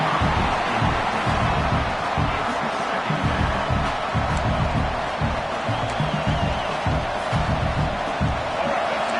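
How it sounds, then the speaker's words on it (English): A college football stadium crowd roars to urge the defense toward a red zone stop, a loud sustained wall of cheering with rhythmic stomping and bursts of whoops, broadcast commentary talking over it. "This crowd is trying to inspire this defense to make a big red zone stop."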